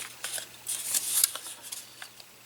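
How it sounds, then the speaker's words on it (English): Scissors snip the leftover tip off a paper corner trimmed with a corner rounder, giving a few short, crisp cuts in a quiet room with no talking. "I just take my scissors and trim that off."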